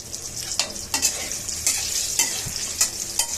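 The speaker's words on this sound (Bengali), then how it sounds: "বেগুন ভাজা কমপ্লিট" Eggplant slices frying in a pan in a home kitchen, a steady close sizzle with repeated sharp scraping stirs and clinks at irregular intervals, no voices.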